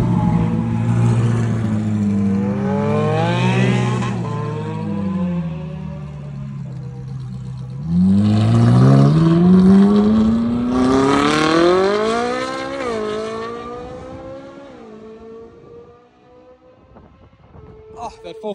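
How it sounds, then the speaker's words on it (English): A Ferrari 458 engine rising and falling in pitch as the car revs and drives past, loud and close, with a second swelling pass; a few voices can be heard faintly. "Oh, that 458 sounds so good."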